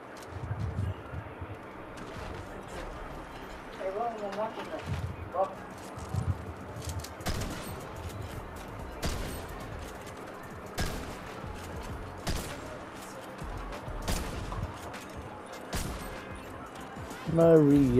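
Sharp, irregular gunshots from Fortnite ring out in scattered bursts across the span, mixed with game effects and a player's voice talking over the shooting.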